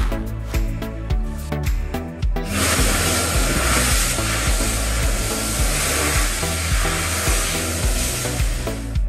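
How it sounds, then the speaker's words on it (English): A Dyson Airblade V hand dryer runs with a loud, steady rushing blast of air after a brief start, continuing evenly to the end with no voices. "This dryer dries each hand separately, which uses two sheets of air that span the width of each hand."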